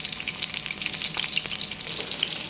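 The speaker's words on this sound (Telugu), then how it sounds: "కొంచెం బాగా ఎర్రగా వేగేదాకా అలాగా నూనెలో వేయించుకోవాలి." Bitter gourd fries in hot oil with a dense, steady hiss and bright crackle, close and constant across the short stretch, no voices over it.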